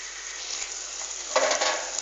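Melted chocolate, butter and sugar are stirred in a pan over the heat, a soft steady sizzle and scraping that grows a little louder and busier toward the end.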